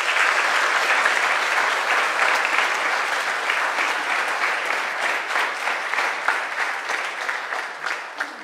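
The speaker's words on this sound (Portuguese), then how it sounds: "Então, para a Bruna e para o Ricardo, nós damos uma grande salva de palmas." A church congregation at a Sunday Mass applauds steadily, dense clapping filling the space at a moderate distance and tapering slightly toward the end, with no voices over it.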